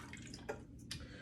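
Whiskey is poured into a glass filled with ice, giving a faint, brief trickle with a few splashy drips close up.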